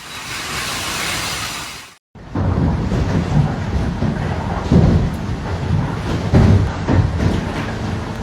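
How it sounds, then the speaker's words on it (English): A destructive thunderstorm over Brisbane, southeast Queensland, with loud wind and heavy rain, low thunder rumbles and gusty buffeting after a brief cut, loud and close with no voices. "A dangerous and destructive storm is smashing southeast Queensland"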